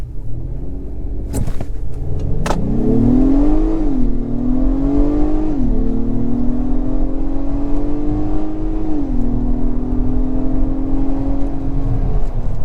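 A 2022 Acura MDX A-Spec AWD SUV launches hard: a loud, steady engine drone climbs in pitch, drops briefly at each gear shift, then keeps pulling, heard from inside the cabin with no speech.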